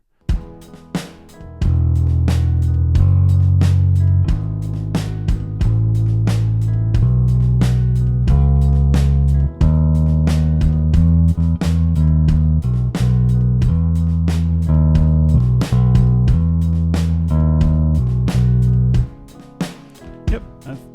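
Synthesized bass notes play a steady, looping line alone, fairly loud and rhythmic, stopping briefly near the end.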